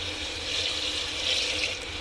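Water poured into a cooking pot of pea pulao with peas and bay leaves, a steady two-second rushing splash of even loudness, close by and without voices.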